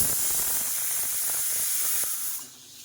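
Dry red chillies and bay leaf hit hot oil as a tempering for biryani, giving a loud, continuous close-up hiss and sizzle that fades slightly near the end.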